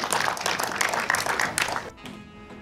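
A crowd of audience members claps in a dense, steady burst of applause welcoming a group of new trainees, sustained for about two seconds before cutting off abruptly.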